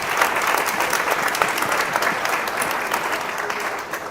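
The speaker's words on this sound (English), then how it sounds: "We can have a round of applause for our fantastic panelists." An audience at the Dubai Future Forum 2023 gives panelists a round of applause: full, even clapping from a large crowd, sustained at a steady level for around four seconds.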